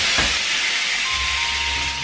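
Hot oil hissing and sizzling in a pan as soy sauce hits it, a loud, steady broadband sizzle filling the whole moment without any talking.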